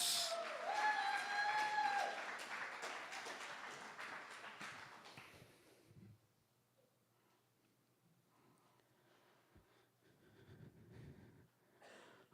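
A poetry slam crowd at Verses Festival applauds a performer. A thick wash of clapping, with a few brief tonal whistles, runs for about six seconds and then fades to a quiet room with scattered faint taps and rustles.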